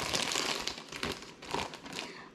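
Plastic bag crinkling loudly and continuously as spices are mixed inside it by shaking, close up and with no talking.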